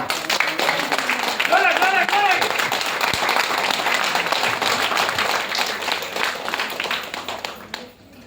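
An audience claps to welcome a speaker, loud and dense from the start, with voices and a few excited calls mixed in, then fading toward the end.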